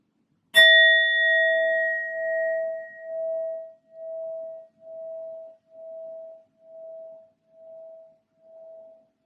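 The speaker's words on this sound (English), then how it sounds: "I'm first going to use my sound bowl to clear and set the energy." A sound bowl struck once, ringing out with a clear sustained tone that fades away in slow, steady pulses of beating over about nine seconds, alone and close.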